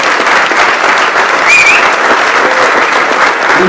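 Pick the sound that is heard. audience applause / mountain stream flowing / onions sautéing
audience applause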